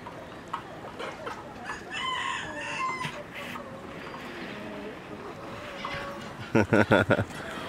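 Chickens cluck and a white Ayam Cemani cross rooster crows on a farm, with a cluster of loud sharp calls near the end and people talking throughout.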